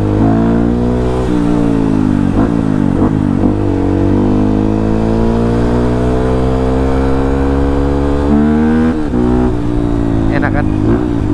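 A motorcycle engine revs repeatedly close by, pitch climbing and dropping in loud throttle bursts, with someone talking over it.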